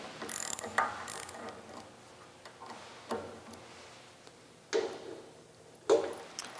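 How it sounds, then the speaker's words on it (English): A hand ratchet loosens the three bolts on the front bushing of an Everett Industries chop saw, giving several separate clicking bursts spaced a few seconds apart, close and fairly quiet with no talk. "take your ratchet and loosen the 3 bolts"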